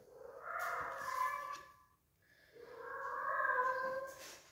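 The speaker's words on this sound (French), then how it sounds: "ce que vous entendez, c'est mon chat qui est en chaleur" A cat in heat gives two long, drawn-out yowling meows indoors, each rising and falling over about two seconds with a short pause between, moderately close but fairly quiet.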